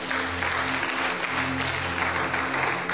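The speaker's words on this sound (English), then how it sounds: "Oh, you can clap for yourself better." Audience clapping at a Christian women's conference, steady sustained applause filling the hall under a low musical hum.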